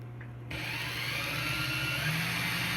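A handheld power drill spins steadily while twisting wire for a parallel Clapton coil, its motor whine starting abruptly after a brief quiet moment and then holding a continuous, close, even drone.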